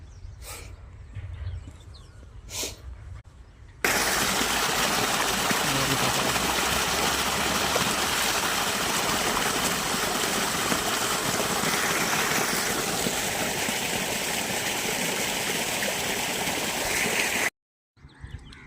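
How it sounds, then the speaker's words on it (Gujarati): Irrigation water rushes into a farm field plot as a loud, steady broadband flow that starts abruptly after a few quieter seconds and runs for about fourteen seconds before cutting off. "તો મિત્રો હાલ ટુકડામાં પાણી ચાલુ છે"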